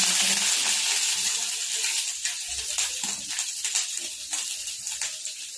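Curry leaves and green chilies hit hot oil with popping mustard seeds for a poha and semolina snack, giving a loud, close crackling sizzle that fades slightly and is broken by small pops.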